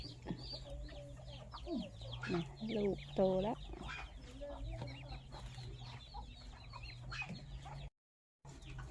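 Ducks quack and chatter in a busy farmyard, with a person talking briefly over the birds.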